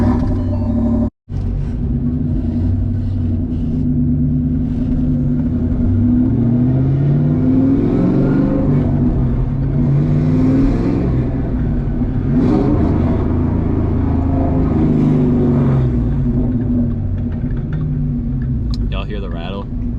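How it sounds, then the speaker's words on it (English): Steady, loud exhaust drone and engine rumble from a car with a failing transmission and a noted rattle, cruising at a constant pace for twenty seconds with no letup. "Let's get a little bit of exhaust noise cruising out of here."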